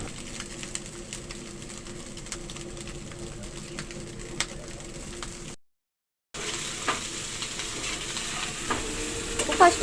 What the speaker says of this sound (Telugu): ఫస్ట్ అలాగా రైస్ మిక్స్ చేసుకున్న తర్వాత